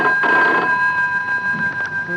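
A telephone rings in a home scene of a stage play, a steady electronic bell tone sounding alone for a couple of seconds.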